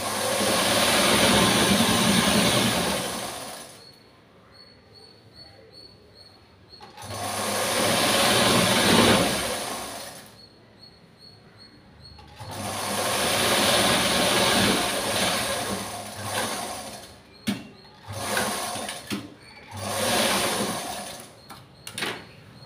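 A sewing machine stitching a nightie runs in long steady mechanical bursts of several seconds each, separated by short quiet pauses, then a few shorter runs near the end.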